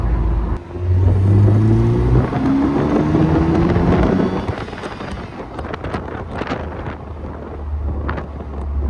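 A Morgan with a 2-litre 4-cylinder engine accelerating on the road, a loud rising engine drone with gear changes in the first half, then easing into lower rumble mixed with heavy wind buffeting.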